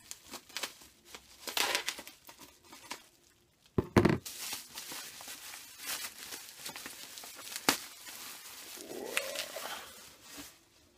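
Package wrapping is opened with scissors: close, scattered crinkling and rustling of plastic and paper, with sharp cuts and handling knocks in uneven bursts and quiet gaps, alone without talk.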